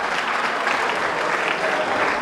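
An audience at a school cultural festival claps steadily after a performance, a loud, dense, even burst of applause from many hands that fills the space without letup.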